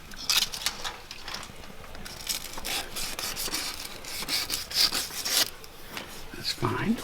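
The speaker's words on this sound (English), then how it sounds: "we take a small piece of emery cloth, and we clean up the rod" Emery cloth rubbing light corrosion off a metal transmission shifter linkage rod on a Land Rover, a close, steady scratchy scrubbing in back-and-forth strokes at low volume.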